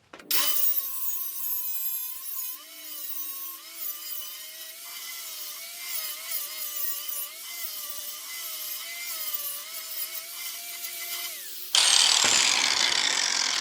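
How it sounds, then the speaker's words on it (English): A power grinder works on a scrap steel truck hitch mast mount for a 2-inch receiver, giving a sustained, wavering whine up close that ends in a sudden, harsher burst. "And grind this off a little bit here."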